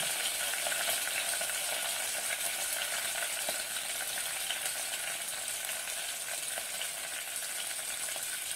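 Masala frying in a pan for a broad bean seed curry produces a steady, dense sizzle that holds evenly throughout, close and moderately loud with no voices over it.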